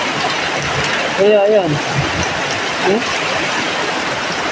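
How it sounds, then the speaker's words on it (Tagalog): Steady heavy rain hisses across the whole clip, a dense broadband wash, while a person speaks briefly over it. "grabe ulan, ang lakas."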